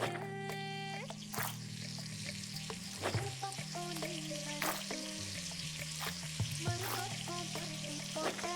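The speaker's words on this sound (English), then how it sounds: "Just the boiling sounds." Continuous sizzling and frying, with bubbling and stirring noises, from cooking in the video game Venba, overlaid with game music tones and no talking.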